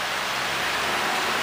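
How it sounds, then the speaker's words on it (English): Heavy rain pours steadily in a dense, broad hiss, loud and close, with no voices and no letup. "It is raining hardcore."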